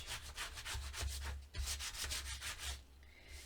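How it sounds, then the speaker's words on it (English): Cardstock is burnished with a tool in steady back-and-forth rubbing strokes, about a dozen quick scrapes close up, with no talking. "And now when I burnish,"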